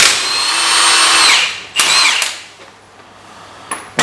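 An impact gun spins the 30mm nut off the drive shaft of an Astra GSI in a loud whirring burst. A second short burst follows, then quieter clatter and a final brief trigger blip.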